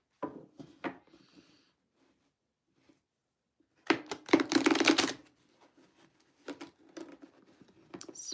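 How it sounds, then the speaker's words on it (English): Playing cards being shuffled on a table, a dense rapid riffle burst lasting about a second, preceded and followed by soft scattered taps and slides of handled cards in a quiet room. "Let me shuffle one more time."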